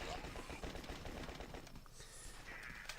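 Rapid gunfire in The Last Stand, with quick repeated shots rattling in a fast rhythm for about two seconds before easing off into quieter game sounds, all fairly faint.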